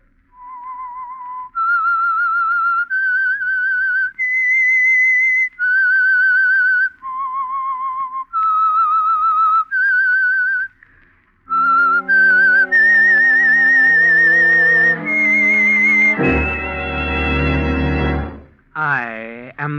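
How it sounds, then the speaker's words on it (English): The whistled theme of The Whistler radio mystery program: a lone, clear human whistle plays a melodic run of sustained notes, followed by a swelling orchestral chord and a rising flourish. "That whistle is your signal for the Signal Oil program"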